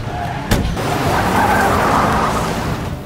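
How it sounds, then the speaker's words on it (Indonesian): A car tears away with tires skidding in a chase scene from the film The Mummy, opening on a sharp impact and then settling into a loud, sustained screech and engine roar close by. "Mereka pun berlari keluar dan menggunakan mobil untuk kabur dari sana."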